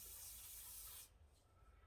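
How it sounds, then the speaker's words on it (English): Close, steady aerosol hiss of lubricant sprayed onto a Rapidor saw being restored, lasting about a second and then stopping sharply, leaving quiet rustling. "I'm going to give it a damn good spray though."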